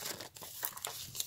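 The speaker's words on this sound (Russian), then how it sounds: "Берем обычный кусочек скотча." A small piece of ordinary adhesive tape is handled close by, crackling and crinkling in short irregular bursts with a faint tearing edge, alone without talk.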